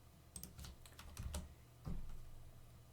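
Quiet keystrokes on a computer keyboard come as a few scattered clusters of soft clicks and taps, with low background noise.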